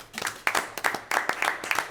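Attendees at a town golf committee meeting applaud, a few people clapping close by in a small room, with irregular claps that swell and taper over two seconds.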